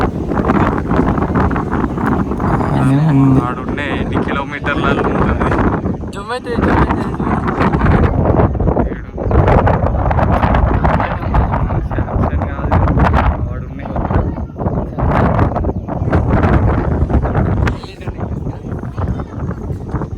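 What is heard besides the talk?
wind blast while riding to Ananthagiri hills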